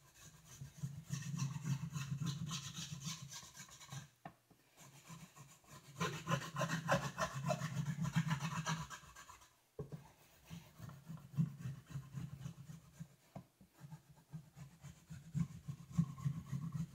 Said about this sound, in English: I'm going to actually just go ahead and rub it flat on the rail itself